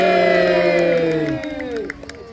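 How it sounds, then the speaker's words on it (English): Spectators cheer at the Peasholm Park naval battle, a loud crowd of many voices and children's shouts joined in a long sustained yell that fades out, followed by a few scattered claps. "Let's have another cheer."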